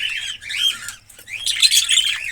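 Budgies in a breeding setup chatter and squawk in two quick bursts of shrill, warbling calls, close and lively, with a short pause between.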